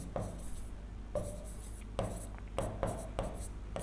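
Chalk or marker writing on a board during a physics lesson: a series of short, crisp scratching strokes and taps, several quick strokes in an uneven rhythm, close and fairly quiet.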